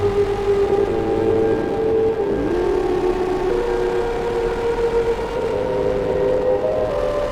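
Tiny modular synthesizer system driven by a Korg SQ1 sequencer, droning with steady sustained tones and a low rumbling wash, loud and continuous throughout with no talking.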